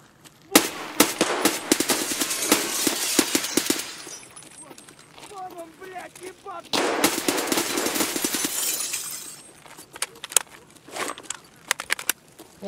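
Gunfire in Escape From Tarkov: loud bursts of rapid automatic shots in two main volleys, then scattered single shots, with some speech between.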